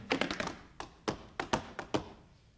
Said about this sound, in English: And remember, no more tap dancing.